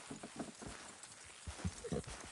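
A horse walks in Red Dead Redemption 2, its hooves clip-clopping in a faint, uneven rhythm at a distance.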